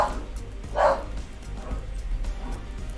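A dog barks once in the video game Paradise Killer, a short yelping bark rising over a low, steady backdrop of game ambience.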